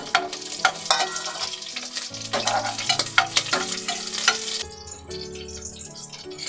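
Green chillies fry and get stirred in a pan for coconut milk biryani, giving a continuous sizzle with scraping stir strokes under steady background music.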